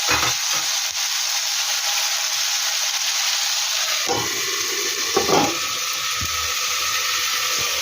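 Sliced ivy gourd (dondakaya) fries in oil in a covered pan on low heat, giving a steady, even sizzling hiss throughout, with a couple of soft thuds partway through.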